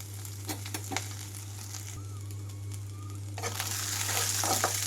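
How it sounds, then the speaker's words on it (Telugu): Green chillies fry gently in a pan with a soft, steady sizzle and a few scraping stirs, all fairly quiet over a constant low hum, with no talking. "పచ్చిమిరపకాయలు కొంచెం వేగాలి తెల్లగా అయ్యే వరకు ఇలాగే ఉంచాలి"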